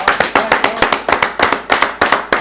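Rhythmic, loud hand clapping from an audience cheering for the Vic hockey team, sharp repeated claps close by with no talking.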